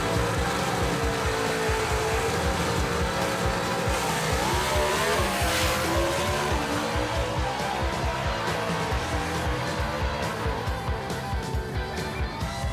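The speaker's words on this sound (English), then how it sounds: "Daniel Haynes in that Falcon right there, the Patriot, going to make a run right here for a lapse time" A Falcon gasser-class drag car makes a timed run at Knoxville Dragway in a Southeast Gassers Association event: a loud, continuous, rough engine roar pulses steadily and rises in pitch, heard close throughout.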